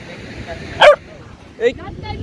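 A dog gives two sharp, close barks about a second apart, with quiet background noise between them.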